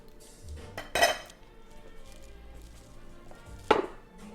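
Pot and utensil clatter while broth is ladled from a pot of turkey wings, with two sharp metallic clanks standing out against quieter kitchen handling.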